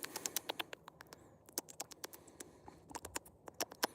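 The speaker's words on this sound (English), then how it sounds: "you can hear them eating the blades of grass" Quiet, irregular crisp snips and crunches of small animals nibbling grass, close by, with scattered sharper clicks and no talking.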